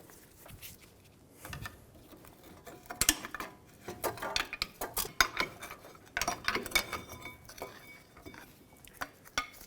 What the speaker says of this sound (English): Using a flat blade screwdriver to help me pry this caliper off.